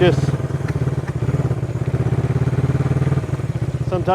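A vintage Honda CB360 motorcycle engine running close by, a steady throbbing, pulsing beat with a few clunky mechanical thuds as the rider works the clutch and gears.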